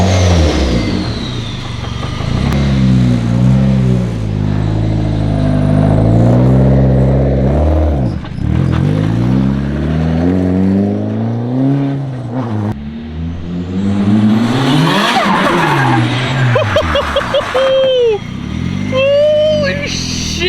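A Nissan S13 engine with an open wastegate revving hard on a dyno, loud sweeping pulls with gear changes and a sharp fall-off near the end, with voices mixed in.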